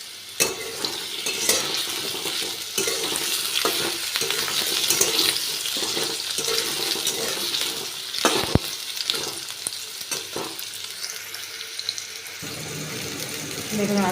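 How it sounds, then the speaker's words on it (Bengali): Potato pieces fry in a pan, giving a busy steady sizzle with repeated scraping and clattering of a spatula stirring them, close and without speech. "আলুটা আগে একটু ভেজে নিচ্ছি।"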